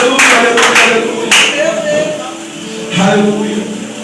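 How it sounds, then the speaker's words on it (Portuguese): Congregation clapping during a church service, bursts of handclaps with voices speaking and calling out over them. "Aplauda o nome do Senhor."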